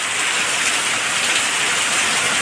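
Heavy, steady rain pours down over farm fields during a days-long downpour, a dense unbroken hiss that stays loud and even throughout with no pauses.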